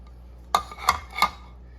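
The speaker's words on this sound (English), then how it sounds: "you're just gonna scoop it out onto a plate" Three sharp utensil clinks against a bowl and plate while seared ahi poke is scooped out, spaced evenly about a third of a second apart, close and clear over a faint background hum.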